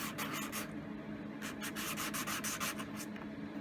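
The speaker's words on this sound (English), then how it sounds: "sanding off the excess" Sandpaper scrubs steadily at hardened excess epoxy on the repaired bases of McIntosh C28 amplifier cans, a close, continuous rasping with rhythmic strokes throughout.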